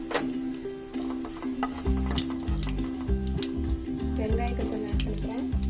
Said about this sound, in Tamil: எண்ணெய் காஞ்சோனையும் சீரகம் அப்புறம் சோம்பு ரெண்டையுமே நான் ஒன்றா ஆட் பண்ணிக்கிறேன்